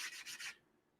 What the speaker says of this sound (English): Sanding block will work well again on the bevel side, I think.